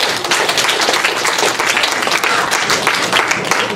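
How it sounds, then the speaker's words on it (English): A crowd at a political campaign speech in Silicon Valley breaks into loud, close applause, a dense continuous patter of many hands clapping that holds steady for the full few seconds. "Let's give him a round of applause."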